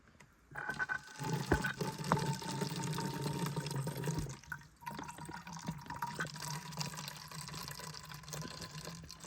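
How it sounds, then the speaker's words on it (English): Water from a Sawyer Squeeze filter trickles and drips steadily into a bottle up close, with a constant liquid patter and a few small knocks. "Doesn't do anything until you squeeze."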